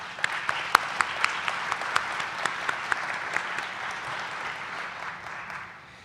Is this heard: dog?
no